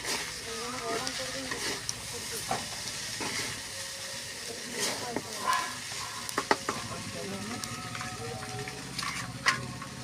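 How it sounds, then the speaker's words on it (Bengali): Chow mein noodles stirred and fried in a pan make a continuous sizzle, with scattered utensil clicks and scrapes close by and faint background noise throughout. "চাউমিনটা ভালো করে নেড়ে নেব। নেড়ে নিয়ে তারপরে চাউমিনটা ভাজা ভাজা হয়ে যাবে।"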